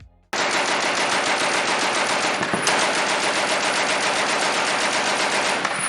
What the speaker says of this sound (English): Next up is the Colt Browning Model 1895 machine gun, known also as the potato digger for being able to kick up a large sum of dirt when fired.